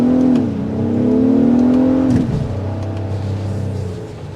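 A 2024 Acura MDX with 290 horsepower accelerating hard from inside the cabin, the engine droning and rising in pitch, then dropping after a shift and settling into a lower, steadier hum.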